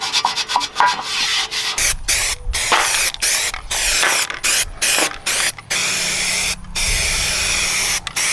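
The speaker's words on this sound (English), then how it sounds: "I think it's wasteful to use it in a spray bottle, this OSFO, but it's easier." OSFO rust treatment is sprayed from a spray bottle in quick bursts of close hissing mist, about a dozen separate squirts with brief pauses between, some longer than others.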